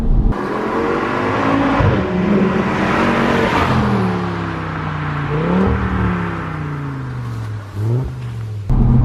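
An Audi RS3 engine heard from inside while driving through a corner at speed, a loud droning hum that rises and falls with gear changes and throttle, continuous for about nine seconds without speech.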